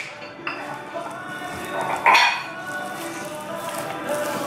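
Bowls and dishes clink and clatter while chicken soup is served in a home kitchen, a few sharp ceramic knocks and a brighter clang midway, close and moderately loud over quiet room background.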